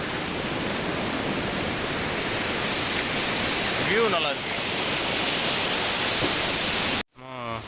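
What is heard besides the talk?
sea waves at Varkala beach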